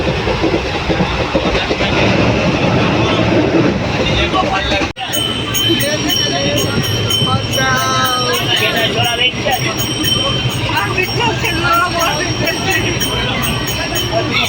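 Inside a moving passenger train, the carriage rumbles and rattles steadily with rhythmic wheel clatter, while family members talk close by over the continuous noise.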